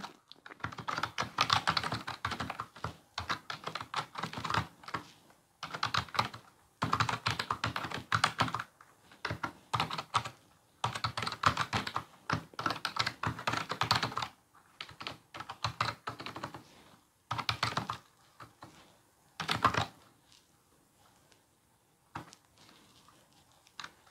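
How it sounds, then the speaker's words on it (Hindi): Typing on an HP Wireless Keyboard 300, with bursts of rapid, close-up key clicks separated by short pauses. The typing fades to sparse taps near the end, and no one speaks. "तो यहाँ पे मैं कुछ टाइप करके देखता हूँ और देखता हूँ इसका कैसी ये स्पीड मुझे लगी"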